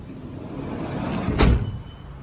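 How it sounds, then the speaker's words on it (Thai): Door of a 2016 Toyota Commuter 3.0 turbo van, an ex-government vehicle, slams shut once with a solid, deep thud over a steady low background hum. "เสียงปิดประตู เสียงอะไรต่างๆ ยังแน่นอยู่นะคะ"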